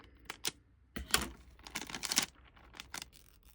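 Paper being cut for a junk journal, a quiet series of short crisp snips and rustles, close and alone.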